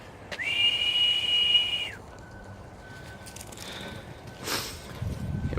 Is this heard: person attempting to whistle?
yes